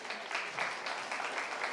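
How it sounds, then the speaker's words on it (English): Brief, soft applause from a small crowd at a 4-H dairy goat show, a light scatter of hand claps lasting under two seconds. "give this Nigerian weather's a big applause"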